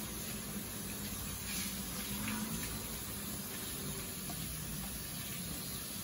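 Running water rinses perm solution from a wig in a salon training session, with fingers working through the curls under a steady, continuous close gush of water.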